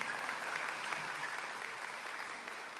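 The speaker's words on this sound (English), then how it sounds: "Let's give them all a big round of applause" An audience at a speaker event claps steadily for all the speakers, with a fairly quiet, even, sustained patter of hands continuing throughout.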